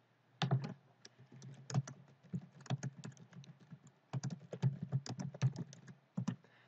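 Card number typed on a computer keyboard at a library sign-in screen, a close, steady run of light plastic key clicks in uneven bursts with one short pause midway, no voices.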